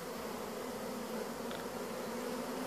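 Bees buzzing up close at an open hive tended by a beekeeper, a steady, dense drone with a low hum running unbroken and fairly loud throughout, no voices.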